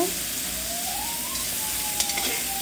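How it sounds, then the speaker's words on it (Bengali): Snake gourd fries in oil in a village Bengali kitchen, giving a steady hissing sizzle close by with a faint siren-like tone drifting in the background. "চিচিঙ্গাটা ভেজে নেবে মা সুন্দর করে।"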